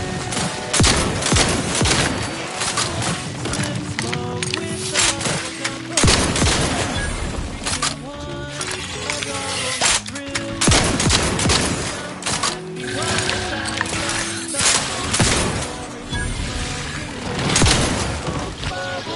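Dense gunfire in the video game Outworld 2, rapid loud shots and bursts running almost nonstop over a music bed, with a brief voice in the mix.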